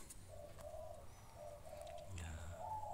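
Turtle doves coo behind a house, a soft repeated low call in steady phrases with an occasional higher bird chirp over faint outdoor background.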